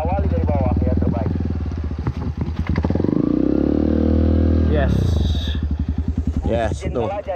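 Motorcycle engine revving hard while climbing a steep cross-country hill, loud and close, with throttle rising and falling in bursts and mechanical clatter, and people talking over it.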